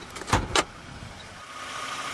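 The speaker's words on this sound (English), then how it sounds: "I'm going to pop the hood." On a 2012 Kia Sorento SX AWD, two quick mechanical clunks come from the hood latch being released and popped open, followed by a quiet background hum.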